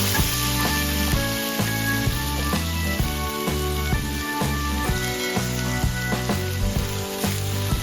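Shrimp and green beans fry in a cooked, fragrant seasoning paste, sending up a loud, dense sizzle with a steady crackle that stays constant throughout.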